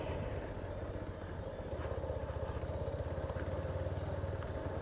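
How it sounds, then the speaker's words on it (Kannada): Vehicles pass beneath an aqueduct, heard as a continuous low engine rumble with a faint rhythmic motorcycle-like putter that holds steady throughout, no voices. "ಓ ಕೆಳಗಡೆ ಎಲ್ಲ ಹೋಗುತ್ತೆ ಕಣ ಗಾಡಿ."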